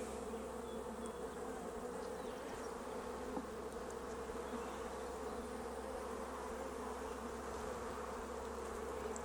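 Honeybees drone in a dense, continuous hum as hives are opened for inspection after three weeks, steady and close without pause or voices.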